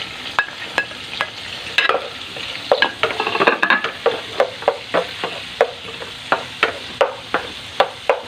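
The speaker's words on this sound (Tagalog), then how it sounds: "dito na rin ako maggigisa" Pork, garlic and onion sizzle and fry in a pan, with a steady sizzle under a series of sharp, evenly spaced scrapes and knocks as a utensil stirs the pan close up.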